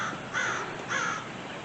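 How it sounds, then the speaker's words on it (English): A crow gives two harsh caws about half a second apart, moderately near, over a quiet outdoor background on a hazy day. "Oh, the crow."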